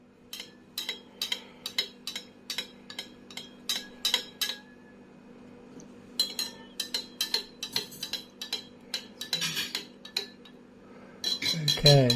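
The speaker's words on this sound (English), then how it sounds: "give that a final stir" A spoon stirring a pina colada in a glass, making a rapid series of bright clinks in bursts with short pauses between, over a faint steady hum and a soft rustle at the end.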